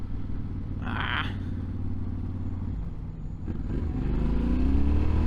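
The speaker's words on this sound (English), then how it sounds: "You can hear the exhaust." A Yamaha Tenere 700 World Raid motorcycle (2023) rumbles along while riding, its exhaust a low steady drone that swells louder near the end, with wind and road noise.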